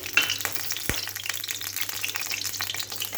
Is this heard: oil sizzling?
yes